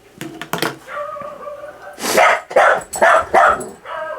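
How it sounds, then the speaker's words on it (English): Pet dog barking indoors, a run of close, loud sharp barks and yips in quick bursts, some whining between them. "Otherwise all we'll hear is her barking for the rest of the time."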